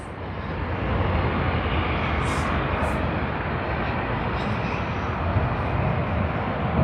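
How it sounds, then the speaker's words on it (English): An American Airlines Boeing 777-300ER, flight AA73, built in 2014, passes at Sydney Airport with a loud, steady broadband jet roar that rises quickly and holds without talk. "AA73, the airline of America. Let's capture that one. It's a Boeing 777-300ER."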